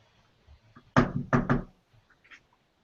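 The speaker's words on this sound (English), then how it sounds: "is someone knocking at the door?" Three sharp knocks on a door, the second and third quick together, close and loud against a quiet room, followed by a few faint soft bumps.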